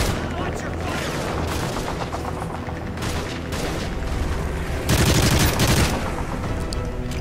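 Dense, rapid gunfire from the Call of Duty: Modern Warfare 3 video game rattles almost without pause, loud and close, with heavier explosive-sounding bursts near the end and a faint voice briefly under the shooting.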